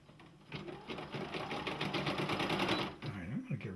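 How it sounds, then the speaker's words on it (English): A Brother PE-series embroidery machine running a jump stitch, a fast rhythmic mechanical chatter of needle strokes that is steady and close, ending with a brief whirring motor change. "I got a green light, and it just did a jump stitch."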